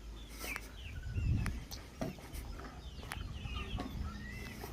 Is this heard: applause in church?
no